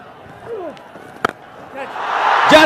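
Cricket crowd at a Nepal versus Canada match roaring in celebration of a massive hit by Anil Shah off spin bowling, a commentator's voice early on, a sharp knock midway, then the cheering swelling loud toward the end.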